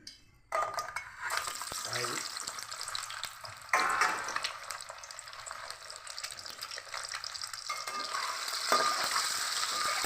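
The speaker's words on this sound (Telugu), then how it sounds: "ఇప్పుడు ఇది ఏం చేస్తానంటే నూనెలో వేస్తాను" Pierced boiled eggs dropped into hot oil and frying, a continuous bright sizzle with bursts of crackling and spattering, fairly close.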